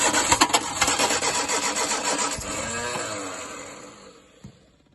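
A Rootes 1725 engine in a Hillman Fastback that won't run cranks and sputters loudly for a few seconds, a rapid pulsing churn that fades out, close by with no talk.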